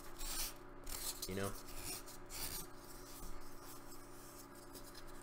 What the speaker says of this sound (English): using a rasp on some foam